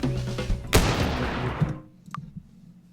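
A sniper rifle fires in the Teardown video game, one sharp loud crack followed by a long rumbling decay, then a fainter short report about a second and a half later.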